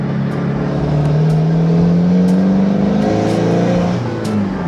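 A turbocharged car engine with its stock turbo revs hard and accelerates, its deep, throaty roar rising and holding steady, loud and close for several seconds.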